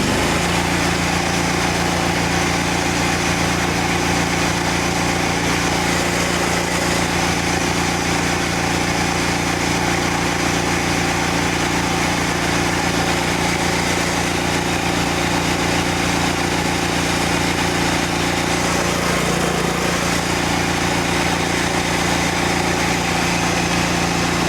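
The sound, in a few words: machine engine running at full throttle with stainless injector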